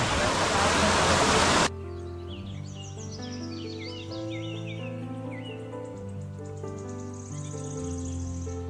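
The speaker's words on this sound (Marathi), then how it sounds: "इथे बघा आपल्याला लागलेला आहे धबधबा" A dense, roaring rush of a waterfall on a rainy trek from Panhala to Pawankhind fills the first couple of seconds, then cuts abruptly to music with bird chirps.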